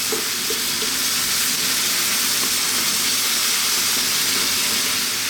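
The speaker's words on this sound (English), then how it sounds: "We're going to stir fry this maximum heat again for 2 minutes." Pork and vegetables with oyster sauce stir frying in a pan over maximum heat, a steady, loud, close sizzling hiss that runs unbroken with faint stirring clicks.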